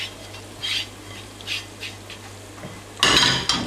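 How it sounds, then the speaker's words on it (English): A utensil stirs onion, garlic and ginger in a pan for curry. Several rhythmic metallic scrapes are followed by a louder burst of sizzling and clattering at close range. "And stir that around."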